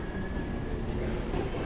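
A subway train at McGill metro station in Montreal rumbles along the rails with a thin steady whine, loud and close, with no voices.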